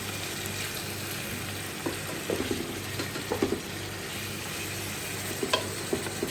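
Boal fish pieces fry and simmer in a pan, a quiet steady sizzle with occasional soft stirring clatters and taps near the cook.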